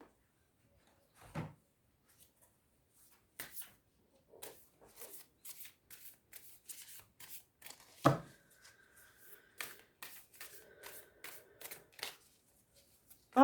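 Rumi oracle cards are shuffled close by in a run of quick, crisp riffling and slapping bursts, with occasional louder thumps and no talking.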